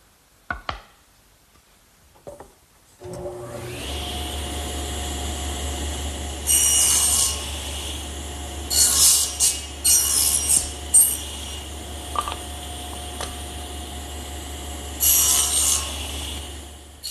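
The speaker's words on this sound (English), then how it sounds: "now the next thing I have to do is make my shoulder cuts on the edges" A power tool making shoulder cuts along the edges of wooden rails for a chest starts after a few quiet taps, then hums steadily with repeated louder bursts of the blade biting into the wood.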